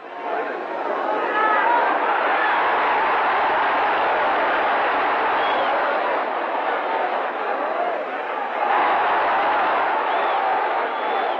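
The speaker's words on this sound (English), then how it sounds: "Well, the crowd have now got something to shout about." Boxing arena crowd at a 1951 Sugar Ray Robinson vs Carl Bobo Olsen fight, a dense, steady roar of shouting and chatter that swells again near the end.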